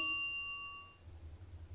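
A single bright bell ding rings out and decays over about a second, leaving quiet low background hum.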